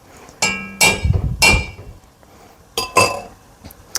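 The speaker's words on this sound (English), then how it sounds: "I'm going to kind of stir that together just a little bit." Cooked leeks stirred in a pan for a chicken and mushroom sauce: a few sharp metallic clinks and scrapes of a utensil against the pan, in short bursts with pauses, close and fairly loud.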